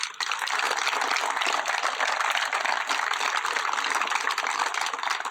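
A dense, steady round of applause fills a house dedication ceremony at a historic farm, many hands clapping evenly and loudly throughout without any talking.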